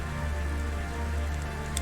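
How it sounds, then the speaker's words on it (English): Steady, dense patter of rain falling in the cyberpunk video game Cloudpunk, a continuous close hiss over a low hum, with no voices. "There's no sun because it's always raining. You see the rain in the background."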